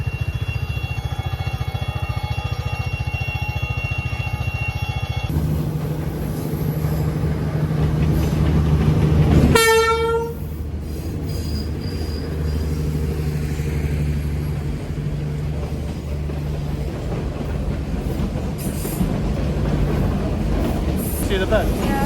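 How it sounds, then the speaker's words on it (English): A sleeper train passes at Hai Van Pass, Vietnam, with a loud, continuous rail rumble, a sharp rising horn-like tone partway through, and people talking nearby. "And I think the train's coming."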